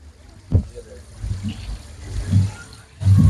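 Water runs into a livestock trough beside flower displays at an outdoor flower festival in Yanbu, Saudi Arabia, a low continuous wash with a few louder bumps and faint voices around it.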